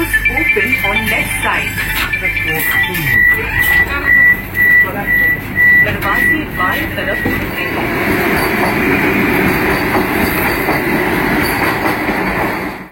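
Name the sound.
express train arriving at station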